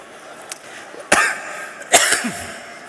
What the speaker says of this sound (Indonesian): itu batuk